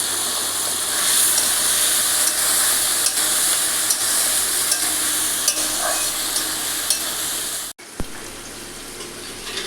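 Masala spices for a mutton curry frying in a pan, giving a steady close sizzle with repeated stirring scrapes, then a brief pause before a sharp hiss near the end.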